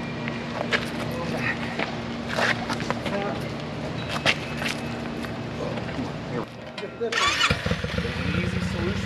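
A new motorcycle with a stock exhaust is started and then runs at a steady, busy idle for several seconds. A brief surge comes near the end, and a voice speaks over the engine throughout.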